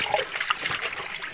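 Two kilograms of native cow dung being stirred into about 100 litres of water in a drum, a faint, continuous sloshing and trickling splash at close range with no talk.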